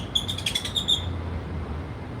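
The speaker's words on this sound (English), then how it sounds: "These grackles are so loud." Grackles in Las Vegas give loud, sharp, repeated squeaky calls in a quick burst during the first second, then fall silent over a low background hum.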